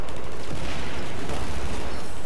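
Dense gunfire and bursts in a shooting video game on hard mode, loud and continuous for a couple of seconds with overlapping shots and booms.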